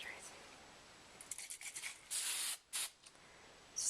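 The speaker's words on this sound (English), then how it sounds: "Just going to spray this one more time." Two loud, hissing hairspray bursts, each about half a second, follow some soft rubbing and brushing of hair, with a shorter spritz at the end.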